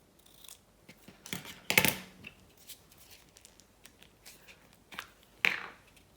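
Scissors cutting a small rectangle from scrap paper, a series of close, crisp snips and rustles with a few louder cuts, no talking.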